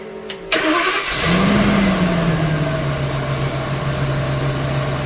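A motorhome engine, just repaired with new rod bearings, cranks briefly with a short starter whine and catches into a steady, close idle that settles after a small rise in revs, with no talk over it.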